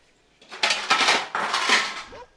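Plates and metal utensils clatter and scrape in a home kitchen, forming two close, loud bursts of rattling dishes, with no talk in between.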